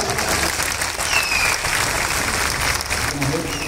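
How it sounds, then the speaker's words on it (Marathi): Crowd at a foundation-stone ceremony in Kalyan East claps harder on request, a sustained thick roll of applause with voices murmuring under it. "टाळ्या कमी पडतात, जोरात।"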